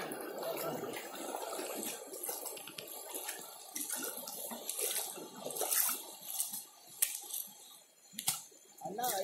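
Stream water flows at a traditional katta check dam in Yethadka, built from local materials without concrete, cement or iron. The rushing, splashing water runs continuously at a moderate level beneath a person talking.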